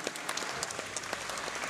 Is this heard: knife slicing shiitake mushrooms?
no